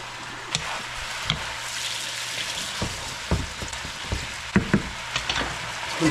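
Meatballs sizzling in a pan as marsala wine cooks down, a dense continuous frying hiss close up, punctuated by occasional crackles and light taps of a spoon, with no speech.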